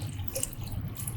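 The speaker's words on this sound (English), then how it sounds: "We open the top cover and we fill with the mineral water." Mineral water poured into the open top of a printer's UV control box, a steady close trickle and splash with faint dripping, heard alone without talk.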